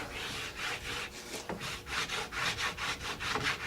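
A cork is rubbed back and forth on a ski base to work in wax, making a steady run of close, brisk rasping strokes with an even rhythm.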